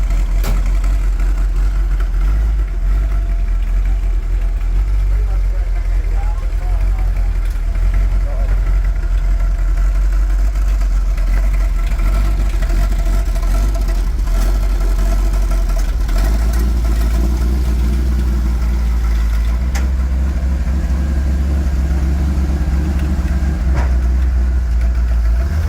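A 1969 Holden HT GTS Monaro 350 Bathurst idling as it warms up, a steady low mechanical rumble close by with slight unevenness, running continuously with a voice heard faintly.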